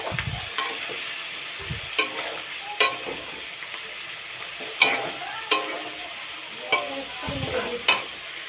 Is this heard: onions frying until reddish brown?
yes